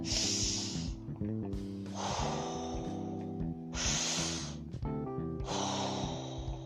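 A person demonstrates Wim Hof method breathing, drawing in several quick, forceful inhales through the nose and releasing the air between them in a close, rhythmic sequence of sharp breaths.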